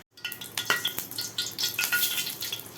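Mustard seeds and urad dal sizzling in hot oil for a tempering, with a crackling, hissing fry and scattered pops close by.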